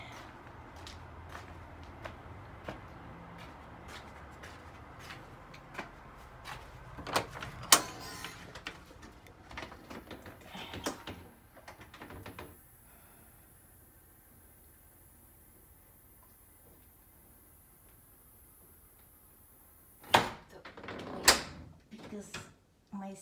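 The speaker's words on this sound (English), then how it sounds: "I don't want the door to be noisy." An indoor house door opens and closes early in the morning, heard as clunks and rattling handle clicks in two bursts separated by a quiet stretch.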